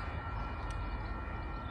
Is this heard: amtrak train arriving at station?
yes